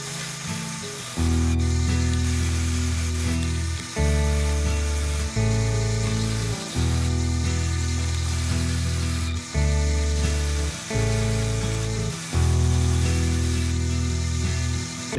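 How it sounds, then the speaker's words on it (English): A sander works along the sides of a guitar fretboard, a loud steady grinding drone broken into repeated passes of a few seconds each with brief dips between strokes. "I'm gonna try to sand down the sides of this fretboard to get it closer to the neck"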